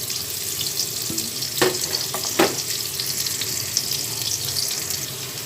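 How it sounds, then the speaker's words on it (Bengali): Vegetables fry lightly in a pan, a continuous close sizzle broken by a couple of brief clinks and spatula scrapes, with no talking. "এই নিরামিষ তরকারিতে আপনারা এইভাবে সবজিগুলোকে হালকা ভেজে নেবেন"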